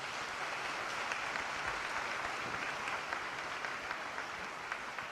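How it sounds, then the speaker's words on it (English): Steady, dense applause from an audience at a high school senior assembly, honoring seniors; continuous clapping throughout with no talk over it. "Let's give these seniors a round of applause as well."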